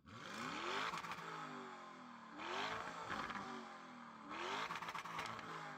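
A Lamborghini Urus Performante with an upgraded exhaust revs hard three times, each rising whine followed by a crackling exhaust burble, fairly close with no talking.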